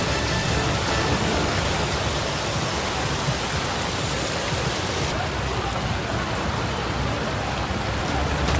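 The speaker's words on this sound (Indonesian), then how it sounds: "hujan." Steady, dense heavy rainfall during extreme weather with flooding pours down continuously, a loud wash of hiss and patter with no pauses.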